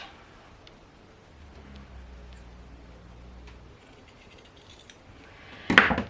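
Sewing scissors trim fabric seam corners on a Vogue 1694 garment, one sharp, close snip after a long, nearly silent stretch.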